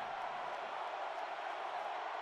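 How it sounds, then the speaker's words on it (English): A stadium crowd in the NCAA Football 14 video game, at an Arkansas home game in Fayetteville, roars as a steady, dense wash of distant cheering with no breaks. "you hear the crowd getting loud here in Fayetteville."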